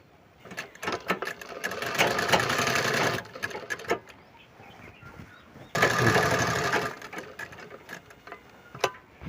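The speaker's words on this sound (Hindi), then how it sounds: "इस तरह से घुमा करके पूरा राउंड आपको सिलाई कर लेना है" A sewing machine stitches around the hem of a Punjabi sherwani, running in two clear buzzing bursts of rapid needle clatter, with lighter ticks and fabric handling in between.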